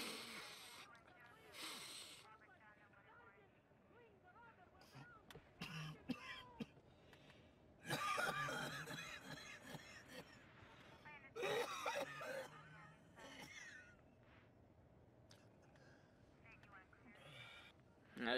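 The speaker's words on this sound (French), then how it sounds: "Avec une toux pareille, tu devrais peut-être aller voir un docteur." Several harsh, raspy coughs in short bursts, with quieter breathy sounds and faint noise between them.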